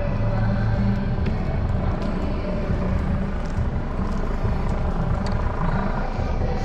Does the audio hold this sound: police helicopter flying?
yes